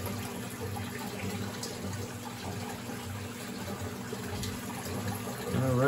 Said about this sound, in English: We do have water going back in through my hose system, my little DIY.